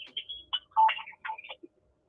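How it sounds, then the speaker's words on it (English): A telephone ringtone sounding through a phone call, a melodic electronic trill in several short bursts with brief gaps, fairly clear and alone. "You have something ringing?"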